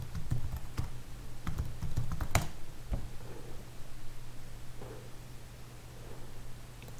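Keys on a computer keyboard are tapped in a quick, uneven burst of sharp clicks, followed by a few sparse taps and then faint quiet room noise with a low steady hum underneath.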